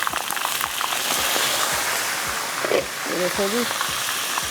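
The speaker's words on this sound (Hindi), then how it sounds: "यहाँ पर बैंगन हो रहे हैं फ्राई" Whole eggplants with cuts scored down their middles fry in a pan with a steady crackling sizzle, while a voice briefly speaks over it.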